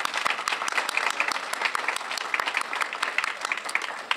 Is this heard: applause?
yes